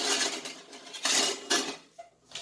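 A metal ladle scoops canned apricots, making a few close clinks and scrapes against the can, with brief wet sloshing between the strokes.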